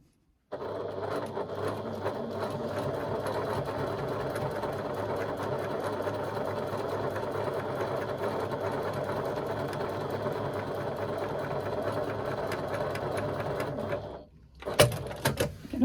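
A sewing machine runs steadily at an even, close-up hum for basting stitches, one long continuous run before stopping abruptly near the end.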